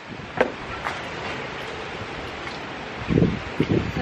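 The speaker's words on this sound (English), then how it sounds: "Oh, lakas ng wind." Strong wind blowing outdoors, a steady broadband rush with a few louder gusts and thumps near the end, no clear speech.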